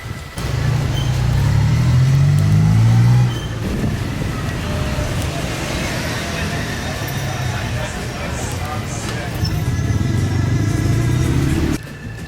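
A car rolls along a road on a trip through the Dominican Republic, heading toward Las Terrenas, Samaná and Sosúa, its engine and road rumble steady and close with wind noise and occasional talk.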